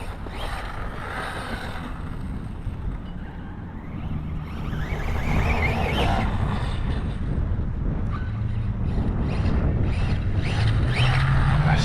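A Hobao Hyper 9E electric RC buggy on a 6S battery whines as it runs, its motor note rising and falling under steady wind buffeting on the microphone, with no talking.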